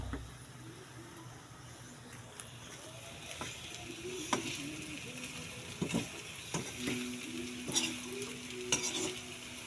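Potatoes with salt and oyster sauce sizzle in a pan while a utensil scrapes and stirs in irregular clatters, the frying hiss steady underneath.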